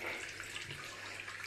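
Water runs steadily from a tap into a plugged bathroom sink, a soft, continuous close-up hiss without any speech.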